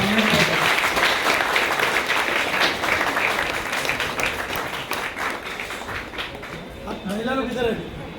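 Audience applause at a charity trust event, a dense sustained clapping from a crowd that gradually thins toward the end, with a voice speaking briefly near the close.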